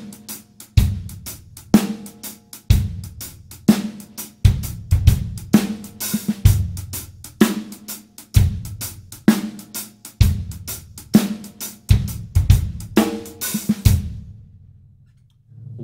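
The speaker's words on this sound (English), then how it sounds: "we take that basic shuffle rhythm and we convert it to a halftime, we get the halftime shuffle that we're interested in today" Half-time shuffle on a drum kit with a deep bass drum, a cracking snare on the backbeat and swung cymbal or hi-hat triplets. The groove is loud and close and repeats steadily for several bars, then the kit falls silent.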